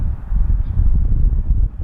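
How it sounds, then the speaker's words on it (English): Low, blustery wind buffets the microphone at an outdoor RC flying field where a HobbyZone Arrows BAE Hawk 50mm jet is being flown, a loud continuous rumble with no clear talk. "it's a little windy here"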